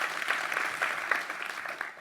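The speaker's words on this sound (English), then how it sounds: "So, yeah, please applaud" Live audience at a space politics podcast recording claps together, a steady patter of many hands with a few sharper individual claps standing out, moderately distant and fading toward the end.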